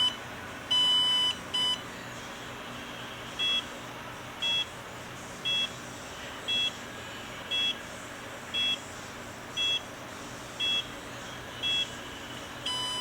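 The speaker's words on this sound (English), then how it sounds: "That was my 9 beeps." A Promatic receiver powers up and starts booting with a magnet held over it, giving a long run of short, evenly spaced electronic beeps, each about a second apart, over a quiet background hum.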